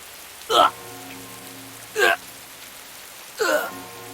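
Steady hiss of falling rain in the Senkou no Clarias video game, a continuous wash under three short, sharp gasping vocal sounds spaced evenly apart.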